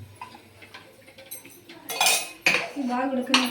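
A metal lid clanks onto a cooking pot in a home kitchen while tomato rasam is made, giving a couple of sharp close clinks and rattles amid faint background kitchen sounds.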